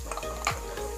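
Almonds and cashews tossed into a pan of fried coconut, a soft clatter over a steady sizzle of frying, close up.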